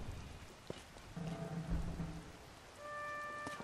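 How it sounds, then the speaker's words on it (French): Rain patters steadily and quietly in the video game Zelda: Tears of the Kingdom, with a low rumble of thunder and a few soft tonal game chimes over it. "Ah, mais non, mais il pleut!"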